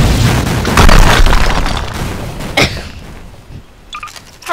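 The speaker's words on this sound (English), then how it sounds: "Shotgun." A shotgun fires in the Garry's Mod video game, a loud booming blast followed by a trailing rumble, with a smaller sharp report later and a few brief clicks near the end.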